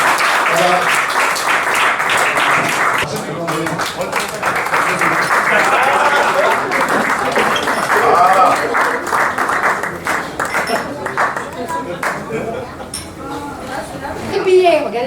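An audience in a restaurant applauds a guest, a loud sustained clatter of clapping mixed with chatter, clinking dishes and people talking over it.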